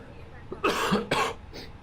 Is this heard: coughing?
yes